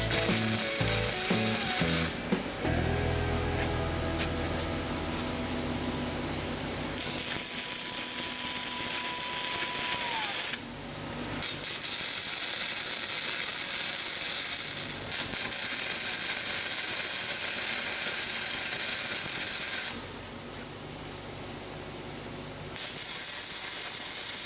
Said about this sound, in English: starting with tack welds at the corners.